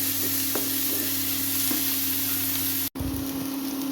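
Tomatoes sizzle steadily in hot oil in a pan, with occasional soft scrapes of stirring and a brief break near the end.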